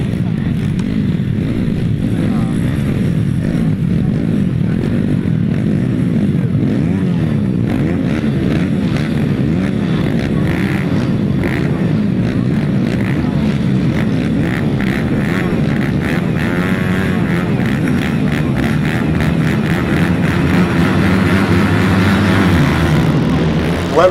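GT 140 grasstrack racing motorcycles roar off the start at a championship meeting, a loud, dense engine drone with rising and falling revs that carries on for the full length, with a voice faintly underneath.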